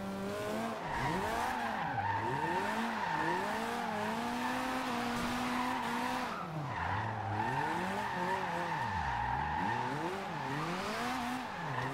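A 2016 Mazda MX5 drift build slides through long drifts in Forza Horizon 2, engine pitch swooping up and down in repeated waves under continuous tire squeal, loud and close with no talk.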